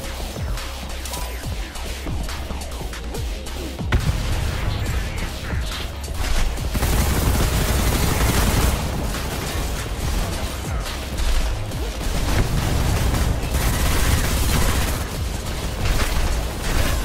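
Heavy video game gunfire and explosions roar in dense, continuous bursts, loud and booming, building into a sustained barrage with a brief quieter start.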